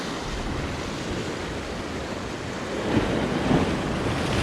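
Ocean surf pounds and washes against coastal rocks in the evening, a continuous broadband roar with wind buffeting the microphone and a slight surge of louder wave crashes toward the end, with no talk.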